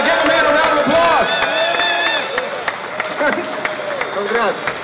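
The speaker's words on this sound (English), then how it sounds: "Give the man a round of applause." Crowd at a tech trade show in Barcelona applauds and cheers a prize winner, steady clapping and whoops mixed with a babble of voices throughout, loud and close.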